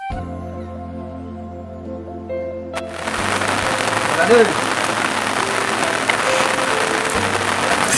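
After a quiet stretch with soft tonal sounds, heavy rain sets in suddenly and turns into a loud, dense, steady hiss that lasts to the end, with occasional faint voices underneath.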